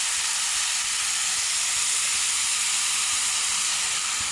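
Sliced bitter gourd simmers in water with salt, turmeric and lemon in a pot on the stove, giving off a steady, even hiss of steam and gentle bubbling throughout, with no voices.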